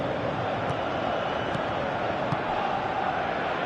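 Football stadium crowd in PES 2017 on PS4, a steady dense roar of many voices holding level throughout with no single standout cheer.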